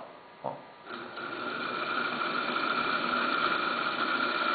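A small electric motor starts with a click and then runs steadily, a close, even whirring hum that holds unchanged to the end.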